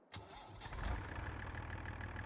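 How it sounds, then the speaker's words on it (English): A Fiat tractor engine in Farming Simulator 22 cranks with a quick sharp catch, then settles into a steady low idle rumble, heard close and alone. "We'll use the Fiat tractor to go get it."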